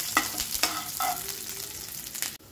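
Onions sautéing in a pan for karela fry, with a steady sizzle and several sharp scraping stirs of a spatula, loud and close, ending in a sudden drop to quiet.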